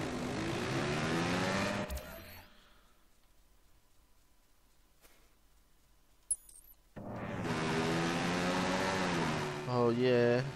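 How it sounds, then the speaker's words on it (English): A moped engine from the video game Watch Dogs 2 revs loudly in two sustained bursts with rising pitch, separated by a few seconds of near silence, close and prominent. "Oh well, let's get this shitty moped."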